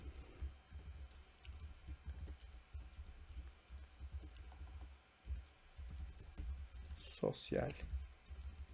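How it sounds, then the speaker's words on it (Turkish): A URL being typed on a computer keyboard, with soft rapid key clicks pattering steadily throughout, close and quiet, under a person talking, ending in a few louder clacks. "Tırnak işaretlerimi açıyorum. Çift tırnak kullanıyoruz arkadaşlar ve linkimi yazıyorum."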